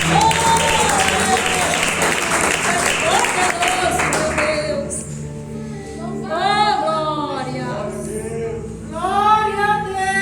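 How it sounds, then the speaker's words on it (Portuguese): Church congregation at a worship service claps in praise through the first half, a dense wash of applause with music, then fades as a preacher speaks. "Glória a Deus com as palmas."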